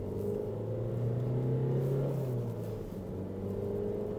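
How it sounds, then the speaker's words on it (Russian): A Renault car with the new 1.7 dCi R9N diesel engine accelerates, its engine drone rising steadily and loud over about four seconds with no talk. "Но неплохо он разгоняется"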